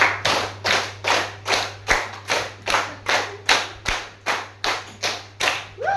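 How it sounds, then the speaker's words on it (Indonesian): Hands clap in a steady, even rhythm, about a dozen sharp, close claps spaced roughly half a second apart with no talking over them. "3 kali tepuk 5."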